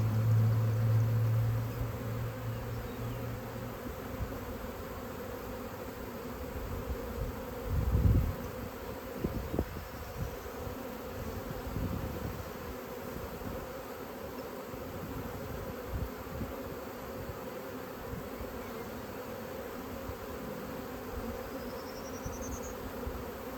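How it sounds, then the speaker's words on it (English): A honeybee swarm buzzing outdoors during a beekeeping session, a steady droning hum that holds throughout, with a brief louder knock or rustle near the middle. "Most of the bees are coming over here."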